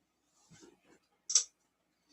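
A plastic zip tie being ratcheted tight around a loose wire on a Pill Power unit during a wire replacement, heard as a short burst of clicks, close and fairly quiet, after a few faint handling noises.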